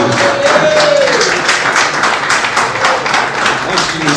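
A church congregation claps in praise, a dense steady wash of many hands filling the room, with a voice or sung tone briefly audible over it.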